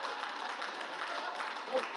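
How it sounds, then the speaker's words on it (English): Audience applause at a comedy stand-up show, a steady wash of clapping held at an even level throughout, fairly close and dense with no voices rising above it. "That is a confusing applause point."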